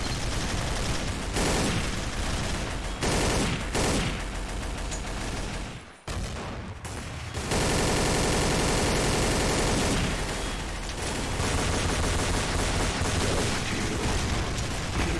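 Rapid M249 machine gun bursts in Counter-Strike: Source, long loud sustained automatic fire with a brief pause near the middle before more continuous firing, gameplay sounds in the background.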